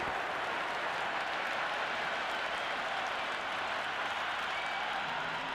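Steady crowd applause and cheering from the stands in the Cricket 26 video game, a dense, even wash of clapping that carries on unbroken for several seconds, mid-distance and fairly loud.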